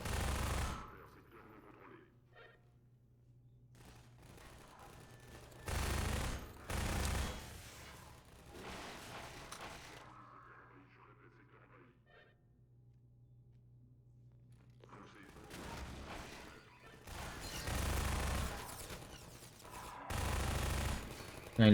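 Bursts of automatic gunfire in the video game Half-Life 2 come in several separate volleys, some loud and sustained, with quieter gaps and a low hum between them.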